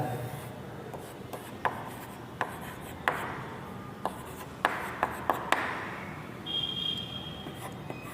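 Pen or pencil scratching across paper while geometry working is written out, a steady soft scraping broken by several sharp taps as strokes start and end, close and alone with no talk.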